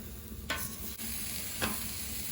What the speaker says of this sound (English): Sear the steak.